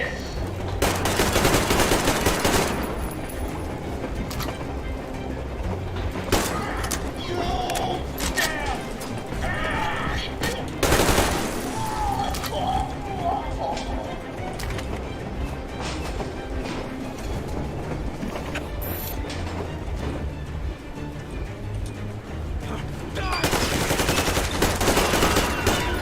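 Gunfire in the Metro video game set in the ruined Moscow Metro, with bursts of rapid automatic shots and rumbling mixed under shouting voices and other game noise.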